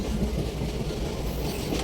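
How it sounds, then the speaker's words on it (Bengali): Train pulling into Arambagh station, heard as a continuous low rolling rumble with a faint rattle of the carriage, steady and fairly close, with no voices. "বলতে বলতে ট্রেন আরামবাগে এসে থামলো"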